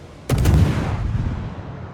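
A single sharp boom of naval gunfire in a warship game with the destroyer Shimakaze, loud and close, followed by a heavy rumbling decay.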